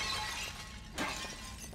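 Clay pot shattering in The Evil Within, one brief crash in the middle over a low ambient game drone.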